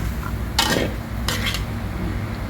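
Fresh chili dip spooned into a jar, two quick close clinks and scrapes of a utensil against the container with quiet kitchen background.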